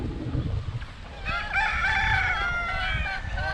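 A rooster crows once, loud and nearby, its long drawn-out call rising over faint background noise.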